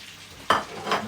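Onions hitting hot oil for a spicy adobo of offal: a sudden loud sizzle bursts in, then settles into steady frying hiss, with a second rise as the pan is stirred.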